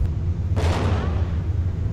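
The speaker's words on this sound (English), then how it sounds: "Gunshot just went off." A single gunshot fired inside an apartment during a hostage standoff, captured in news footage: one sharp, muffled burst about midway through that quickly decays over a steady low rumble of background noise.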